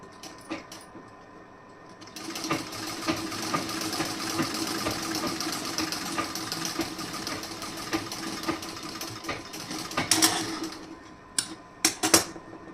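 A sewing machine stitches the last seam of a blouse in one long, steady, whirring run, close by, followed by a few sharp clicks and knocks as the cloth is handled.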